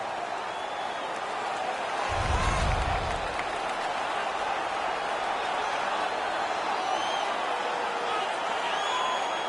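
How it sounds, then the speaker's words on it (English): Home arena crowd in an NHL 17 hockey game, Stanley Cup Finals in Nashville, a continuous roar of cheering and applause with a brief low thump, steady and loud throughout. "The home crowd is ecstatic. They're making all kinds of noise."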